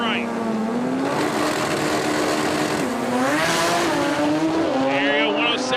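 A Sterling and an RX-7 drag race side by side down the strip, their engines screaming loud and close as they climb in pitch through the gears, with a live commentator talking over them.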